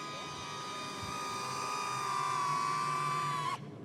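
A DJI Neo mini drone buzzes with a high, whining rotor hum that rises slightly, then cuts off abruptly as it lands in a hand.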